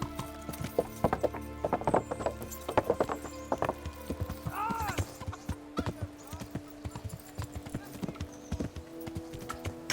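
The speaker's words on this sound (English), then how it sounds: "That horse of yours nearly trampled me to death." A horse's hooves clip-clop in a steady, uneven rhythm close by, and a whinny rises briefly near the middle. Voices talk over parts of the sound.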